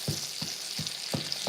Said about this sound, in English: Y'all listen to that. It's still just sizzling.